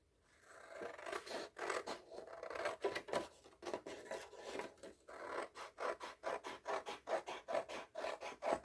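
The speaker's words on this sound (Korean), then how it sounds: "선생님이 날카로운 걸로 한번 그어주고 가위로 자를 거예요" A sharp blade scores paper on a desk before scissors cut it. Close, quiet rasping strokes repeat in a steady, fairly quick rhythm throughout.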